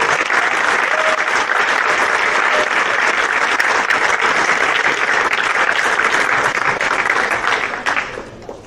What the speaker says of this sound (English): give another round of applause for all of the winners and nominees for the award